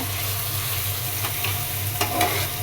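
Ginger garlic paste and onion frying in oil for a meat curry, a steady sizzle over a low hum with a couple of brief scrapes near the end.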